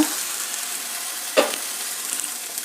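Avarekalu roti cooks covered on a hot tawa over full flame, giving a steady soft sizzle with one brief crackle midway.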